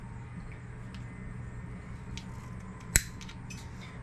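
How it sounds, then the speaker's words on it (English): A single sharp snip of cutters through a zip tie on the wiring loom of a 52V X-Class ebike, one brief click near the end of a quiet indoor stretch with faint background hum. "let's get these zip ties cut off here"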